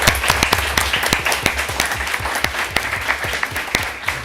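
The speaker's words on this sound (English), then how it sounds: "one last round of applause for all of our amazing Tacoma principals" An audience at a Tacoma Public Schools board meeting applauds its school principals, dense and loud clapping with sharp individual claps standing out, steady from start to finish.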